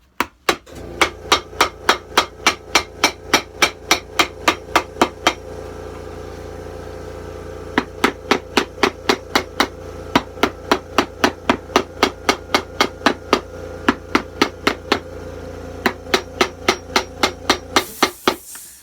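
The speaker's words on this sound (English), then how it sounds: "So we're nailing" Stainless steel nails are hammered into leather on a Tony Lama boot under restoration, with sharp metallic blows in quick steady runs, about two per second, close and loud, pausing briefly midway, with no talk.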